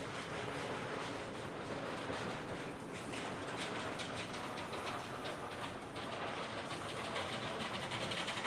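A train rumbles past at Busch Gardens Tampa, a dense, steady roar of wheels and carriages with faint clickety-clack, loud and unbroken throughout.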